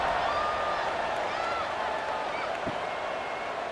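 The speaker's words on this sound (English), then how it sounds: "this crowd is buzzing after that last score" Stadium crowd in EA Sports College Football 26 at a Kent State versus Akron game, a steady dense roar of voices that holds at one level throughout, with a brief low thump near the end.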